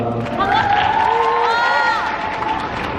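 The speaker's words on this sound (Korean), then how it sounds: "다시 한번 큰 박수 부탁드릴게요" A studio audience at a Korean music talk show cheers and claps to welcome a guest on stage, with high whoops and shouts riding over a dense, steady crowd roar that fills the whole stretch.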